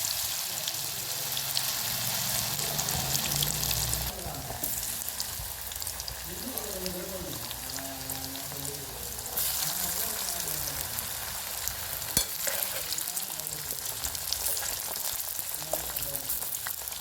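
Raw banana slices fry in oil in a pan, giving a dense, rain-like crackle and sizzle that persists throughout, with a voice talking over it for part of the time.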